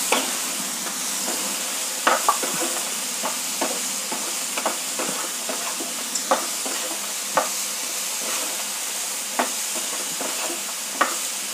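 Vegetable curry with green peas roasts in a pan with a steady close sizzle and frying hiss, punctuated by irregular clinks and scrapes of a stirring spoon, with no voices.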